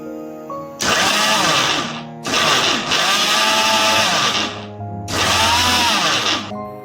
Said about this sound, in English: I'll grind it a little time more.